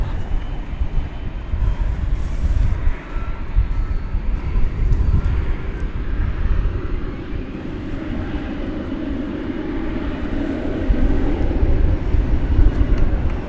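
An American Eagle E-Jet, Flight 3480, rumbles at DFW Airport at night, a steady, broad jet-engine roar heard from a moderate distance, holding fairly even for the whole stretch.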